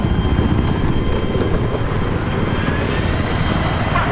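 A helicopter in the video game Battlefield 3 gives off a continuous, heavy engine drone with a constant rotor roar that holds steady and fairly loud throughout, with no voices over it.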